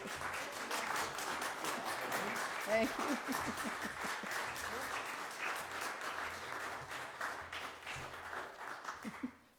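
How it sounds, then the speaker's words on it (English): Audience applause during a Sunday church service: sustained clapping from a congregation, fairly even and continuous for most of the stretch, with a voice speaking briefly over it before it fades out. "No applause is necessary."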